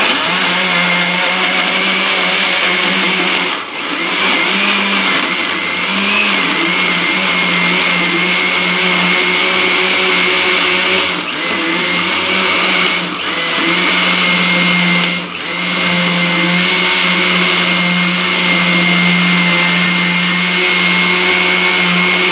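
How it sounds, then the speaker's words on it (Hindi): A kitchen grinder blends mango chutney with ice cubes in one loud, continuous motor whir, close and steady, briefly dipping in pitch a few times as the load shifts. "मैंने सिर्फ इसको ग्राइंडर करना है।"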